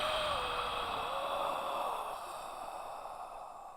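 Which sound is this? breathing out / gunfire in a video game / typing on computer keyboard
breathing out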